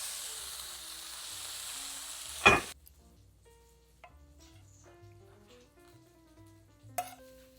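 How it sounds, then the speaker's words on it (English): Chicken pieces crisping in a hot pan give a loud, steady sizzle for a few seconds that cuts off abruptly, followed by quieter kitchen sounds and a sharp clatter near the end. "I might want to just give this a little crispy crisp on the pan."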